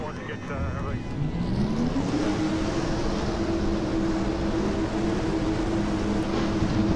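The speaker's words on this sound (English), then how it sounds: "42 cars fire up" Many NASCAR stock car engines fire up together in the NR2003 racing game at Michigan, a droning roar that rises in pitch over the first two seconds and then holds steady and loud, with a voice talking over it.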